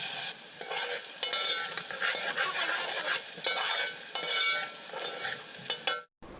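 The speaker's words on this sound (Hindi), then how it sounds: "जब आपका घी गर्म हो जाएगा उसके बाद आपने इसमें 2 अदद प्याज कटे हुए डालने हैं और प्याज को अच्छे से फ्राई करना है" Chopped onions frying in hot ghee, a dense steady sizzle with stirring scrapes, close and clear, with no talking, ending abruptly.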